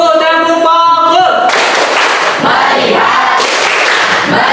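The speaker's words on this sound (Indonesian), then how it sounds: "Yang kedua tepuk fokus, tepuk fokus." After a teacher's short spoken cue, a roomful of children bursts into the 'tepuk fokus' clapping chant, loud group shouting mixed with rapid rhythmic hand claps close by.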